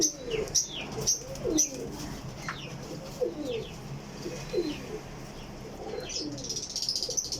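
Pigeons cooing in repeated soft, rolling calls at close range, with occasional higher chirps and a hint of wing flutter, over a quiet background.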